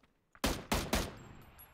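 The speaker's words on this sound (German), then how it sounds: "Jemand hat geschossen." Three sharp, loud gunshots crack in quick succession in a video game, each followed by a short echoing tail, after a faint click, with no talking.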